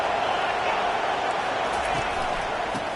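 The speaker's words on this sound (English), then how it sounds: "Listen to this crowd just shaking the girders of this place trying to help their defense." Stadium crowd in an NCAA Football video game roaring as a steady, dense wash of noise for the full stretch, fairly loud and unbroken, with no distinct individual voices standing out.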